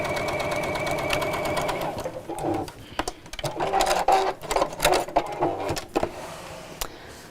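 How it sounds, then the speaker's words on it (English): A sewing machine stitches fabric close by in steady bursts of rapid mechanical whirring, stopping and starting several times. "just stitch very slightly to one side, or you could do two rows of stitches, one each side of that line."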